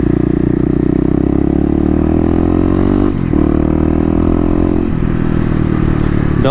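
A Kawasaki KLX250 dirt bike with stage 1 modifications accelerates hard from a standstill toward 60 mph, its loud engine drone climbing steadily in pitch with brief dips at two gear shifts, close and continuous throughout.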